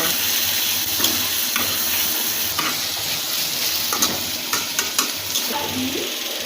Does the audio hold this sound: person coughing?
no